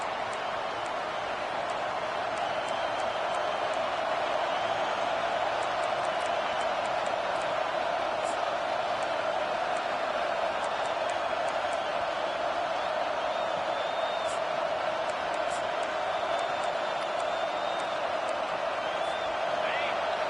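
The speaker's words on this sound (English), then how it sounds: "Decibels rising as the crowd gets behind this defense on 3rd down." A college football stadium crowd roars steadily for the defense on third down, a sustained dense wall of cheering with scattered whoops, while a commentator talks over it.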